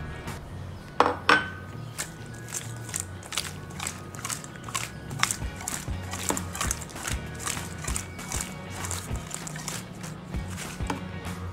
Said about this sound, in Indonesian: Lalu diaduk rata kembali.